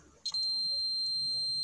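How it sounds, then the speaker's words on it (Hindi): Multimeter set to continuity range beeping in continuity mode while checking a triac: a steady, loud electronic tone starts abruptly and holds without a break. "हमारा बीप मोड में आ गया है,"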